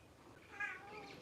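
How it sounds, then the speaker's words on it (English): A pet cat named Kitty, just woken from sleeping on a seat at home, gives a single short, faint meow against a quiet background. "That's my cat, Kitty."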